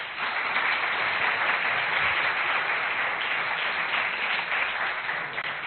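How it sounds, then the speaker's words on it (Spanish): An audience at a cosmology and exoplanets lecture gives the speaker a steady, continuous round of applause that is dense and even in volume and slightly muffled, with no voices over it. "Así que un gran aplauso para él."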